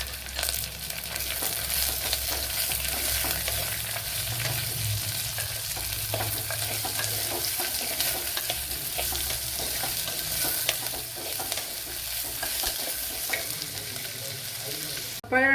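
Chopped onion frying and sizzling in a pan while being stirred, a steady close hiss with occasional scraping of the spatula, alone without voices.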